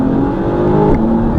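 Porsche engine revving hard during a 20-second boost, a loud sustained roar with rising pitch and a brief gear-shift dip near the end, close and continuous with no talk.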